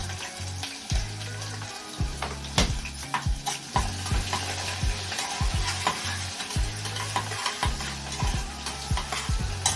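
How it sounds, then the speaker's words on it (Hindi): Chopped onions fry and sizzle in a pressure cooker over a gas flame, with steady crackling close by and repeated sharp scrapes and clinks as a spoon stirs them against the metal. "और मैं डाल दूंगी इसके अंदर प्याज।"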